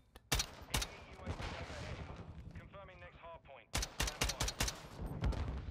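Gunshots in Modern Warfare II, sharp loud cracks opening the clip, a quieter stretch with a voice, then a fast volley of close shots near the end.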